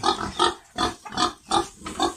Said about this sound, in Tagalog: May inahin ako.